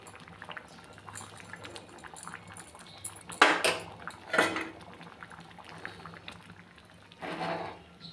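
Ghee and half a spoon of garam masala poured into a pot of chana dal, followed by a few sharp spoon scrapes against the metal over a low bubbling simmer, close and moderately loud.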